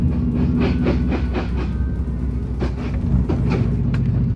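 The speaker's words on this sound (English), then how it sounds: "I'm getting treated to an actual car wash." An automatic car wash runs over a Subaru, a steady loud machine rumble with repeated swishing bursts of brushes and spray passing over the body, continuous throughout with no talk.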